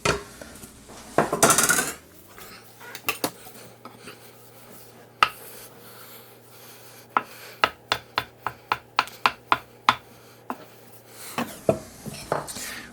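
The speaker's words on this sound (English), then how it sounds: "I'll put those back on the sheet pan as well." Potato gnocchi are set down on a metal sheet pan in a kitchen as a run of sharp, close clicks and clatters, some fast and regular, over a faint steady hum, with no talking.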